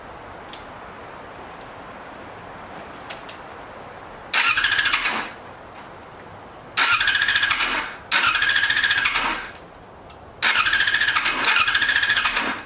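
A 2002 Yamaha YZF R6 sportbike that has sat unused for six years cranks on its electric starter in four loud, whirring bursts of one to two seconds each, separated by quiet gaps, without catching.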